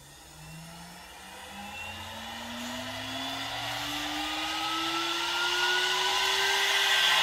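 CNC spindle spinning up at high speed, a close whirring whine that rises steadily in pitch and grows louder over several seconds.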